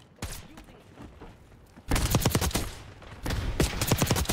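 Black Ops 6 submachine-gun fire in a multiplayer match: a rapid burst up close, a pause, then long loud automatic volleys with crackling shots, all without talk.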